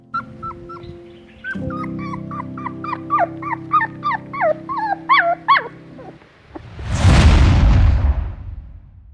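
A small, weak puppy that could barely walk whimpers in a run of high, rising whines, close and clear, before a sudden loud rushing burst of noise near the end.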